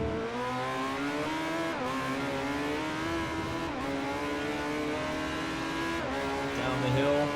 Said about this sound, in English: Look how much faster the LMP1 cars are in the straight line now